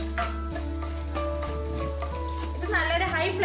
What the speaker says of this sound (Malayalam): ഇനി ഇതിലേക്ക് ചെറുതായിട്ട് ചോപ്പ് ചെയ്ത് വെച്ചിട്ടുള്ള വെളുത്തുള്ളി ചേർത്ത് കൊടുക്കാം.